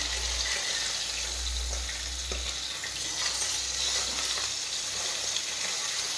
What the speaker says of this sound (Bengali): ট্যাংরা মাছ ফোটে বাবা।